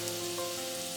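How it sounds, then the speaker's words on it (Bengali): Green onions fry in a pan, giving a steady, close sizzling hiss with a faint tonal hum underneath, alone and without talk. "এটাতে আমি একটু গ্রিন অনিয়নও একসঙ্গে এর সঙ্গে ভেজে নিই।"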